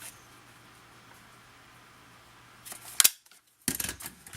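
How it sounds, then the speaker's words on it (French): A half-circle paper punch cuts through a small paper envelope, producing a sharp, crisp snap and then a brief crunching rustle of paper after a quiet pause. "j'ai un punch pour faire un demi-cercle"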